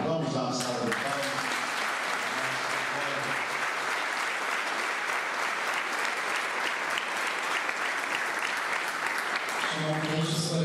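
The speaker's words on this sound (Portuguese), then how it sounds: "Vamos dar uma salva de palmas." A church congregation applauding during a Holy Thursday foot-washing Mass, with sustained dense clapping filling the space for about ten seconds and brief speech at the start and end.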